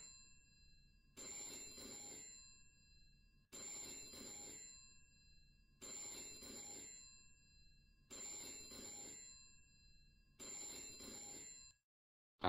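An in-game telephone in VRChat rings in five regular trilling bursts, each roughly two seconds long, separated by brief silences. It is clear and steady, with no talking.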